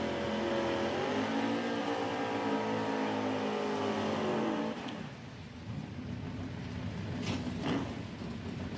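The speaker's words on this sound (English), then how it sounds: "Joe Swain, the right-hand side, in the Chevy 2 completes the burnout alongside Micah Monteleone in the wagon in the left side" A Chevy II drag car does a burnout at a drag racing event: a loud, sustained engine roar at full revs that drops abruptly to a lower, rougher rumble partway through.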